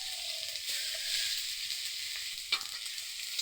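Chopped tomato sizzling in hot oil in a pan for pabda fish rezala, a steady close crackling hiss with a brief sharper spit near the end, no voices.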